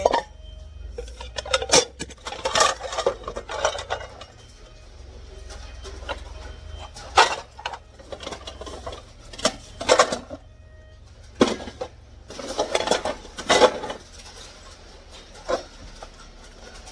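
Metal frying pans clank and clatter in uneven bursts as they are picked up and sorted from a pile of discarded cookware in Korea, with a few quiet spoken remarks between the clangs.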